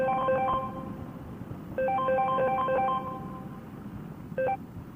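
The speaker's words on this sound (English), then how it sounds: "I got a phone call, so I had to get off the bike." A phone ringing with an incoming call, a melodic ringtone of stacked tones heard in two longer bursts and a short third one, moderately loud over a low background rumble.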